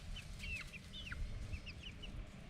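Hens in a backyard chicken run give soft, scattered clucks and rising chirpy calls, several birds trading short notes over a steady low rumble of outdoor background noise.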